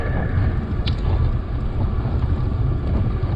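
Strong wind roars across the microphone while driving on farm roads near Portage Des Sioux, a steady loud buffeting rush that fills the whole stretch with no speech.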